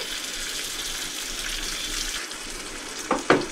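Steady crackling sizzle of chopped pickled green chilies frying in hot oil, loud and close, with a couple of brief clinks near the end.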